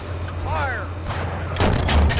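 A T-72B3 tank cannon fires in the combat simulator Steel Beasts 4.3: one sharp, loud blast partway through, over a steady low engine hum, with a few radio-style voice calls earlier.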